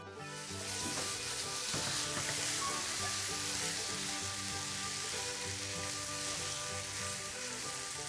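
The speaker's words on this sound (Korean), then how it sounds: "그러면 이제 볶아서 한번 먹어보도록 하겠습니다" Gochujang bulgogi made with lean pork shoulder and vegetables sizzles loudly in a pan with added cooking oil, a dense continuous frying hiss with faint stirring scrapes and no talking.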